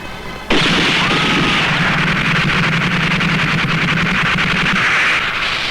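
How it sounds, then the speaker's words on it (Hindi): Gunfire in a Hindi action film climax. A loud, sustained burst of rapid shots and booming blasts starts abruptly and carries on almost unbroken to the end. "कौन गोलियां चला रही है?"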